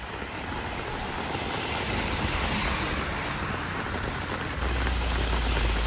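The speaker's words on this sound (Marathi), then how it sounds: "तर नवी मुंबईमध्ये सुद्धा पावसाने हजेरी लावली" Steady rain showers falling in Navi Mumbai, a dense, even hiss of drops on surfaces that continues without pause, with a low rumble of passing traffic growing slightly stronger near the end.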